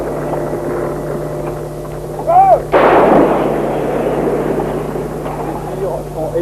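A regiment's artillery fires a single heavy round, a sudden loud blast with a rolling rumble that decays over several seconds above a steady background hum, with brief voice-like tones just before.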